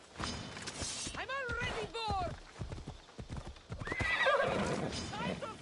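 A horse in Assassin's Creed Odyssey clops along with hollow hoof beats, whinnying in two sharp neighs early on and again more faintly later, while a person talks over the game sounds.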